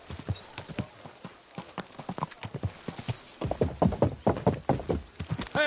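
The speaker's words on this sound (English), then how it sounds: "Your horse nearly trampled me." Horse hooves clip-clop at a fast gallop in the medieval open-world game Kingdom Come: Deliverance II, rhythmic thuds close and loud with a brief whinny, running continuously under little else.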